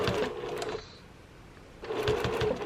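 A sewing machine stitching binding onto a sampler quilt: two close bursts of fast, even needle chatter separated by a brief pause.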